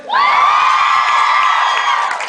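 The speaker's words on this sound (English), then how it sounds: "You didn't say yes, you just shouted." A convention panel audience lets out a loud, sustained crowd shout together, a bright cheering roar holding steady for about two seconds.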